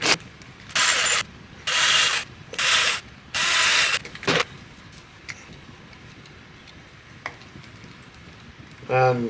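Several short bursts of a small electric screwdriver whirring as tiny screws are driven into a Vanquish VS4-10 RC transmission, four or five close pulses, then quieter handling clicks and a brief final whir.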